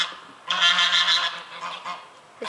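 Geese honking loudly and close by, a sustained burst of harsh overlapping calls followed by a few fainter honks and a last sharp call at the end.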